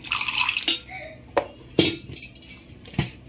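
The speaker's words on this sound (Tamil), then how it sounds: "கொஞ்சம் தண்ணி ஆட் பண்ணிக்கிறேன்." Water poured into a mixer jar of ground coriander stems in a kitchen, with clinks of metal utensils and a few sharp taps against steel between soft splashing.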